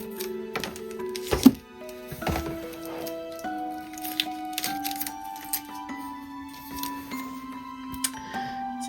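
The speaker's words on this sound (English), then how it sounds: "Let's just cheat and use some scissors." Scissors snip open a plastic package holding a small pumpkin standee from a Sanrio Halloween advent calendar, giving a series of sharp clicks and crackles over soft background music.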